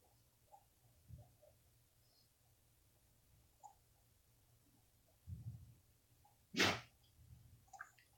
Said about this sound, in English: Bless you, puppy dog.